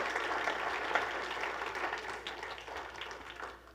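A church congregation applauding during a sermon, a dense patter of many hands clapping together that stays fairly even and gradually eases off over a few seconds.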